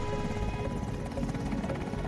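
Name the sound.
helicopter flying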